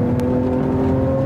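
A 2012 Lamborghini Aventador's mid-mounted V12 holds a loud, steady, droning note while circling a 150-metre skid pad at about 120 km/h at the Nardo Ring, close and continuous.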